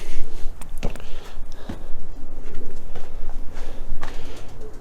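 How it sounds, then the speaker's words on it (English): Pigeons coo inside the abandoned Carnegie Library building in Shipley, soft and somewhat distant, mixed with scattered clicks, shuffles and hollow room noise. "I can hear pigeons"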